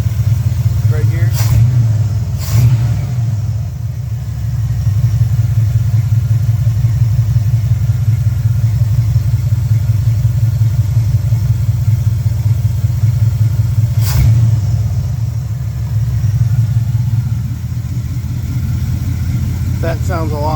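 The engine of a 1972 Pontiac Le Mans idles steadily after an idle-screw adjustment, a loud, even rumble with brief clicks, while a person talks over it.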